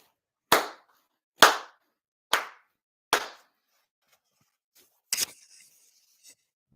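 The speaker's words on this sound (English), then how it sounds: "4 sincere claps" Four sharp, evenly spaced ceremonial hand claps at a Shinto spring memorial ceremony, each ringing briefly in a quiet room, followed by a softer, shorter sound and then silence.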